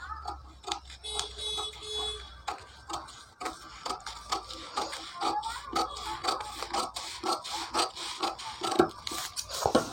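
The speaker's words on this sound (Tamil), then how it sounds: "இப்போ அடுத்து பார்த்தீங்கன்னா இந்த கழுத்துடைய வளைவை கட் பண்ணிக்கலாம்." Scissors cut the curved neckline of a paper blouse pattern, a close, steady series of crisp snips and rustling paper in quick rhythm.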